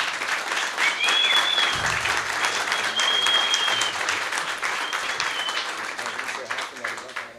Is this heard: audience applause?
yes